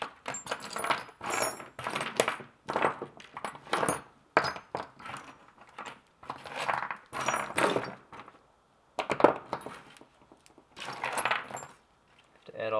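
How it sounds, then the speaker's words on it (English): Metal Woodruff keys rattle and clink as hands dig through a box of old machinist tooling, in irregular bursts of jangling with short pauses between, close up. "Looks like there's some more Woodruff keys in here."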